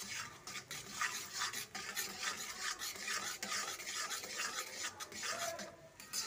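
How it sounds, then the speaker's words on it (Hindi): Chana dal halwa being stirred in a pot just after sugar is added, a steady scraping and rasping of a spoon against the pan with faint sizzling, close and continuous, with no talk. "अब इसे मिक्स करते हैं और इसी टाइम इसमें शुगर ऐड कर देते हैं।"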